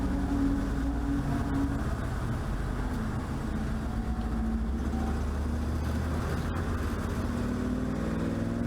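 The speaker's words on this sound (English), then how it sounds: "It doesn't sound like he's at full song right now, so there's obviously something going on with the car" A ChumpCar endurance race car at Circuit of the Americas runs down on power, with a steady, muffled engine drone and low rumble and shifting tones throughout, without clear revving.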